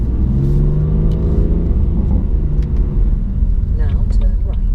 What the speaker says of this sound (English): God, this car makes good noise.